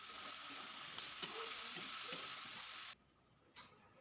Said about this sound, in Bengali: দিয়ে মশলার সঙ্গে আলু, বড়ি, বেগুন সব কিছুই কষিয়ে নিব